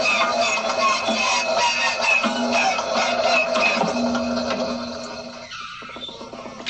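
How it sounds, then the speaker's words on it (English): The inertia starter of a 1928 biplane gives a loud mechanical whirring whine, rising and grinding like a spinning flywheel, holding steady before winding down and fading near the end. "The first thing is the inertia starter off an old 1928 biplane, which we recorded near here."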